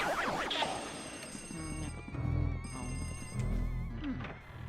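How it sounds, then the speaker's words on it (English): A telephone rings repeatedly in a steady pattern of tonal bursts, fairly loud and alone, with no talking over it. "I hear a phone."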